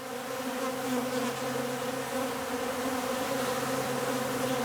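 A honeybee swarm hums in a steady, dense drone, many wings blending into one loud continuous buzz around the hive, no voices.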